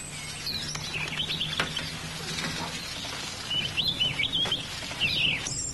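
A small bird is released and chirps in short, high twittering bursts against a soft, continuous outdoor background, with no one speaking.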